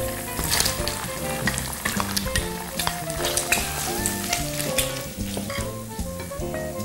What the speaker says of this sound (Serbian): I na njoj popržimo na trakice narezanu slaninu.